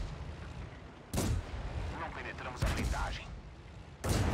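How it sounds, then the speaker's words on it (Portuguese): Gunfire from metal war machines in a video game, heavy booming shots in three bursts over a rumbling background, a voice talking faintly between them. "Continuar atirando na parte mole dele."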